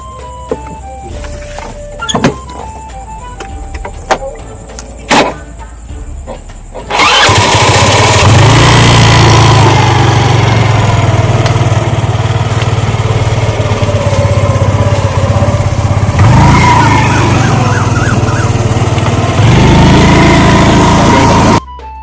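A motorcycle engine starts after a few quiet seconds of scattered clicks, then runs loud and close with a steady, rough roar until the end.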